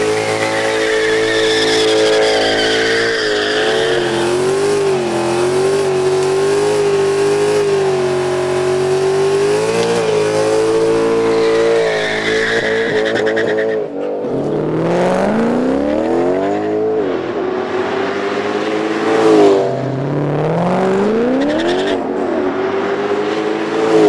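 A tuned Mercedes C63 from City Performance revs loudly and continuously, its engine note rising and falling through sustained throttle blips, then ripping through sharper swoops toward the end, with no talk over it.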